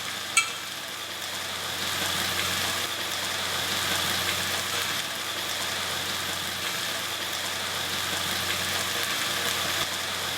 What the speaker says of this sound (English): Passata is now cooking out nicely.